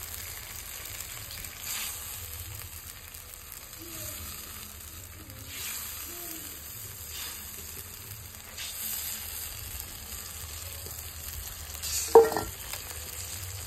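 Fish sizzling in oil with spices in a home kitchen, a soft steady frying hiss with occasional stirring and a brief louder clatter near the end, fairly quiet throughout.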